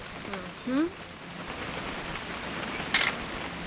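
Rain falling in the video game What Remains of Edith Finch, a steady close hiss throughout, with a brief rising tone early on and a sharp camera-like click near the end.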